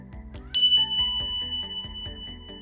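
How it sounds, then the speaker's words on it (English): Metal bells struck in a classroom ring out with a bright, clear tone that sustains and slowly fades, close and loud at first, then thinning over a faint steady background pulse. "Listen for the sound of the bells and hands up when the sound disappears."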